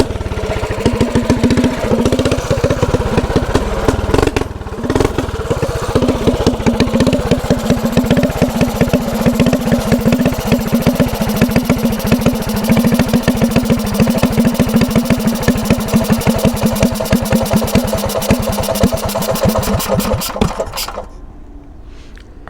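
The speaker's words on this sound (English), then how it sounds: "So you just trying to blip the throttle real fast" A stock mini bike engine runs loud and close, its throttle blipped over and over in quick bursts on a machine that runs badly, then it cuts off near the end.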